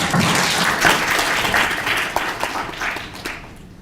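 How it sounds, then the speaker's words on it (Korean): A policy forum audience on disability legislation gives a round of applause, dense clapping that is strongest at first and gradually thins and fades toward the end. "여러분 박수 좀 보내주시기 바랍니다."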